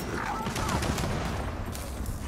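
Heavy automatic gunfire in a video game horde mode, a loud, continuous barrage of rapid shots with dense crackling bursts and a low rumbling undertone, unbroken from start to finish.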